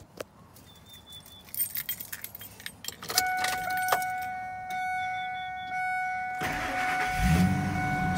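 A 2000 Ford F-250 with a 5.4 engine and 210,000 miles being started: keys jangle close by, a chime sounds, the starter cranks and the engine catches into a steady idle.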